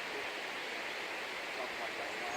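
Waterfall beside a footbridge on a mountain trek between Sari village and Chopta in Uttarakhand, a steady broadband rush of falling water, loud and continuous throughout with no breaks.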